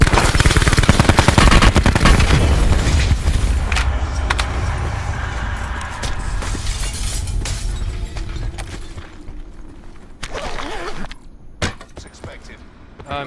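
Rapid bursts of automatic gunfire ring out in Call of Duty Blackout, loud and dense at first, then thinning into scattered shots and sharp cracks, with a voice talking over the action.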